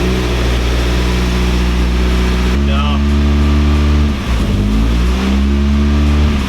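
A Nissan 240SX engine idles at a high, steady drone close by, with a brief shift in tone midway as people talk over it.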